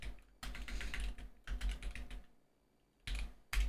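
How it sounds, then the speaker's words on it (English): Rapid clicky keystrokes on a computer keyboard come in three quick bursts separated by short pauses, close and fairly quiet, with no voices. "Don't look at my typing skills"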